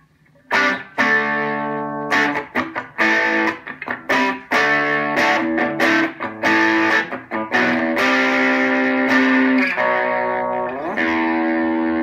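Electric guitar through the bluesy setting of an Aspectek headphone-amp wireless guitar system, with mildly distorted, choppy strummed chords and picked notes in an uneven rhythm, loud and close, ending on a long sustained chord.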